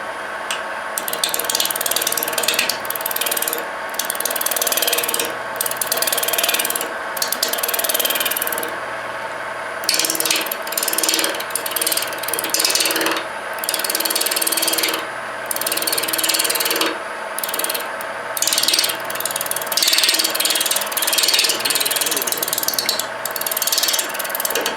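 A wood lathe cuts a cove into a wooden spindle in multi-axis turning. Close, loud bursts of rattling, ratchet-like cutting come and go in an uneven rhythm as the lathe is repeatedly started and stopped. No voices are heard.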